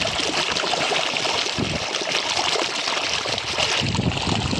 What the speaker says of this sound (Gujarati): જુઓ નદીનું નાલું આવેલું છે તેમ પાણી આવેલું જાય છે